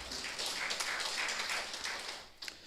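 Audience applause at a university research dissemination symposium at Muhimbili: steady, dense hand clapping from many people, fairly loud and sustained throughout, with no speech over it.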